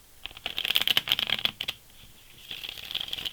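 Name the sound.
shuffling tarot cards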